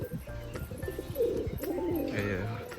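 Soft, low cooing of crested pigeons repeats in a quiet space, close by, with faint background rustle.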